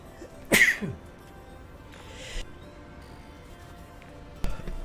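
A single sharp sneeze bursts out near the start, followed by a few faint rustles and a small thump in an otherwise quiet room.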